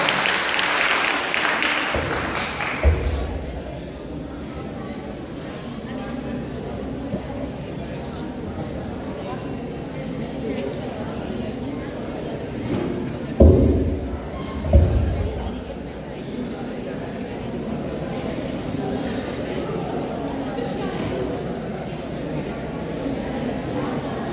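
Audience applause welcoming a speaker on stage at a DAV college event, a broad steady patter of many hands clapping at moderate loudness, with a few louder thumps and background murmur of voices.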